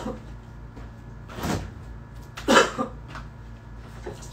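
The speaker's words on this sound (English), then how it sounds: "I hate dry coughs." A single dry cough from a person at home during a casual livestream, short and fairly close, with a second softer burst a moment later over quiet room background.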